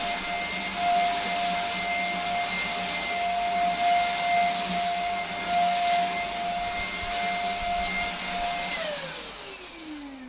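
A cheap Belaco BUVC134A vacuum cleaner runs at close range with a steady, loud whine and airy rush, its pitch sliding downward near the end as the motor winds down.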